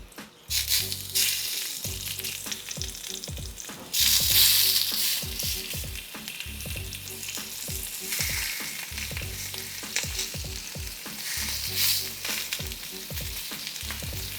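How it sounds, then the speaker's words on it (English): Steak sizzles loudly and steadily in a hot grooved skillet, a constant crackling hiss with occasional shifts in intensity, no voices. "Got the sizzle."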